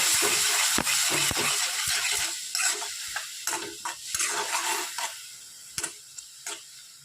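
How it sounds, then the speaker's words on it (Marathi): Green chilies and garlic fry in a pan for dill bhaji, with a steady sizzle and repeated scraping, clicking strokes of a spoon stirring throughout. "त्या याच्यामध्ये मिरची टाकायची लसूण थोडंसं लालसर झाल्यावर आहे मिरची चांगलं फिरून घ्यायचं"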